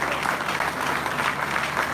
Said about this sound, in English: Can we put our hands together for her?